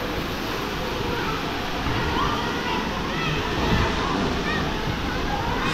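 Water churning and sloshing in a resort wave pool, a steady broadband wash with surges of splashing, heard fairly close with no clear talk over it.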